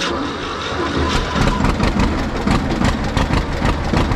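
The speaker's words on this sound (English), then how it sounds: "we're going to use this beautiful 1952 John Deere B" 1952 John Deere B tractor engine running, a loud, steady low chugging with a rhythmic pulsing beat, rising slightly in intensity after the first second and continuing close throughout.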